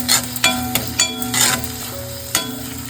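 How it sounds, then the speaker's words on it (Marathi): Chopped onion and tomato sautéing in a pan for a Konkani-style fresh cashew curry, a steady close sizzle broken by several quick stirring scrapes. "आपला कांदा चांगला आपल्याला परतून घ्यायचा आहे. आता टमाटर घालते."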